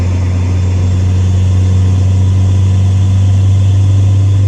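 Loud, steady engine drone with a deep low hum and exhaust rumble from a running Ford Fiesta ST with an aftermarket intake, in fifth gear around 60 mph, continuous and close, without speech.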